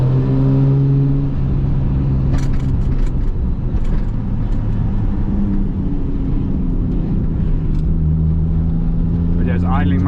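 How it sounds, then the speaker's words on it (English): Rebuilt Toyota Supra GT300 race car engine idling and blipping at low revs, a steady loud rumble with shifting engine tones, while people talk over it. "it's idling much nicer at lower revs"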